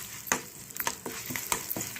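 Mustard seeds, cumin, dried red chillies, asafoetida and sesame seeds fry in hot oil for a brinjal-tomato chutney tempering, a steady close sizzle broken by sharp stirring scrapes and crackles.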